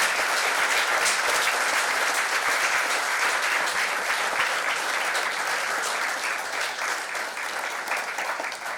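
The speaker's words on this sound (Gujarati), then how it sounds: "જોરદાર તાળીઓથી આ ક્ષણને આપણે શાશ્વત બનાવીએ" An audience at an education award ceremony breaks into loud, sustained applause, a dense, even roar of clapping that holds for several seconds.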